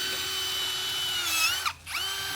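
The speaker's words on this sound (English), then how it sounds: "I would say the auger thing, it does" A power drill spins an auger bit into garden soil to dig holes for planting Ruby bulbs, giving a steady close whine that dips briefly as the bit bogs down near the end before spinning back up.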